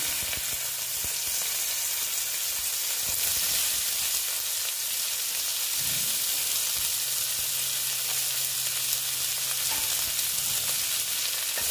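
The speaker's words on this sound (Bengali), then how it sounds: "পেঁয়াজটাকে ভালো মতন আমি ভেজে নেব" Continuous sizzling of chopped onions frying in a pan, steady and close, with occasional faint clatters and no talking.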